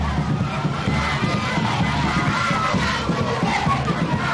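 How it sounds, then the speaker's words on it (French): A festive street crowd welcoming a governor, with continuous dense cheering, shouting and singing, loud and close throughout, voices blending into one steady roar. "une ambiance festive marquée par des chants, des danses et des cris de joie"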